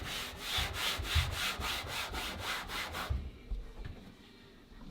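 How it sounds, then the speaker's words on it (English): A rag soaked in lacquer thinner is wiped over a grimy surface to clean it before painting: about nine quick, close, rhythmic rubbing strokes, then it stops and only faint quiet remains. "wiping down this grime with this lacquer thinner and get this cleaned up, get it prepared for painting"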